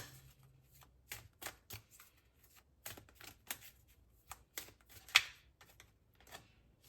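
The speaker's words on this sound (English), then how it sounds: "I am also going to take a few cards from this deck." Oracle cards are shuffled by hand, giving soft, quiet riffling and tapping bursts in an irregular rhythm, close by with no talking.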